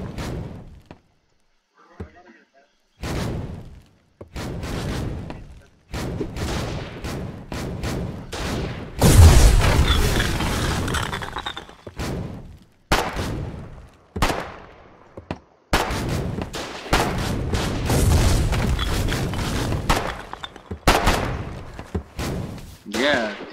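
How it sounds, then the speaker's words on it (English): A war video game fills with repeated heavy booms and thuds of explosions, plus bursts of gunfire, loud and irregular, while a voice talks over them between blasts. "It sounds like a fucking airstrike"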